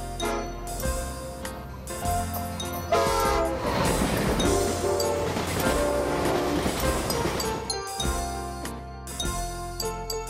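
A bullet train rushes past with a rising roar and blaring horn, all layered over steady, bright background music.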